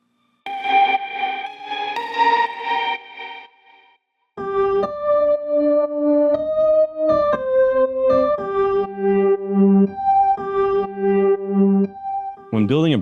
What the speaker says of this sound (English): There are tons of great lead sounds in lo-fi, and here's a couple I used for this track.